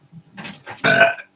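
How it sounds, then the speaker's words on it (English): A single loud, drawn-out burp erupts close by near the end, after some quieter murmuring and shuffling. "makes me burp and fart."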